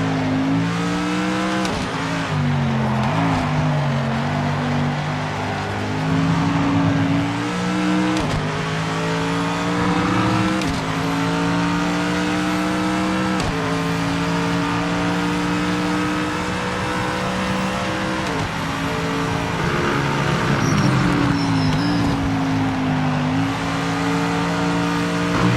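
A Porsche race car engine in a racing sim revs high and shifts up and down through the gears, loud and close for the whole stretch, with brief tire squeal.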